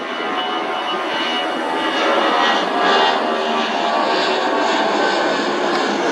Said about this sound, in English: Wow, what a takeoff.